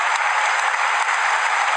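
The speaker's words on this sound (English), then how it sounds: "Applause for Gomez as he goes off." Stadium crowd at a Liverpool versus Brighton football match applauding a substituted player leaving the pitch, a dense, loud, even roar of clapping and crowd noise filling the whole moment.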